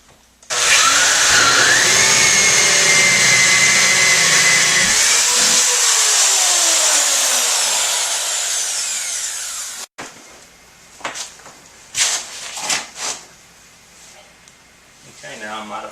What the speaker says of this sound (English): I have the hole saw installed in the drill, and I'm going to use my pilot hole and drill out my 1-inch hole